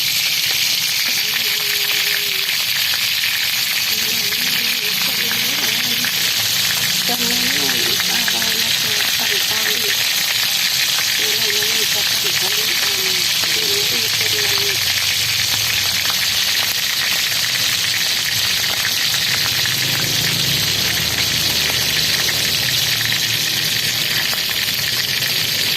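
Food fries in a pan with a loud, continuous crackling sizzle throughout, while a faint voice murmurs underneath partway through.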